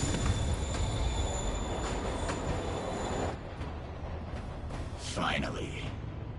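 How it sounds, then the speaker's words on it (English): Train pulling away from a platform in the Spider-Man video game, a steady rolling rumble with rail noise that thins slightly partway through, mixed with game sounds and a faint wheel squeal. "Train's moving."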